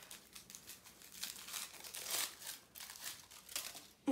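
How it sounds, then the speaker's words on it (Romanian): Crinkly gift wrapping being unwrapped by hand, a steady rustle of paper crinkles and tears rising and falling over a few seconds, close and moderately quiet with no talking. "Hai, să despachetăm."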